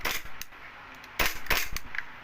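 A repaired E&C Hi-Capa airsoft pistol fires several sharp, loud cracks in quick succession, one then a brief pause and a close cluster of shots, with no voice.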